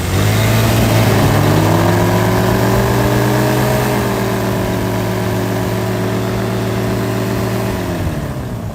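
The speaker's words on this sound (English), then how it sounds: "Let's do a burnout, chat. Let's do a burnout. I think we have to do a burnout." A car does a burnout with the brake locked, the engine held at a loud, steady high rev for several seconds before easing off near the end, close by.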